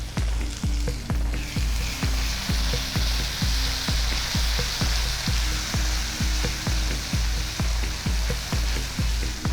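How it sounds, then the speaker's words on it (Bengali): Onion and ginger sauté in oil for a fish korma gravy, a steady loud sizzle with rhythmic spatula strokes scraping the pan roughly every half second throughout. "খুব ভালো করে পেঁয়াজ আদাটা কষিয়ে নিচ্ছি"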